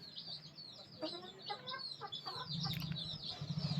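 Young, never-bred hens in a breeding setup cluck close by in a steady run of short, overlapping calls, with no one talking.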